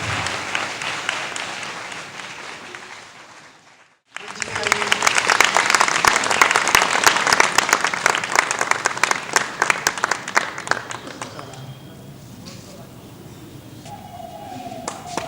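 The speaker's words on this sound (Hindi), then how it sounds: "एक बार इस पूरी टीम के लिए जोरदार तालियां चाहिए।" A theatre audience at a staged dramatization in Bihar breaks into loud applause after a brief hush. The dense clapping swells, holds, then thins and fades as voices and other sounds come through underneath.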